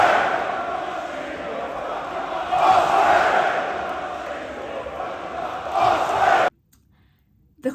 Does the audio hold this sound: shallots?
no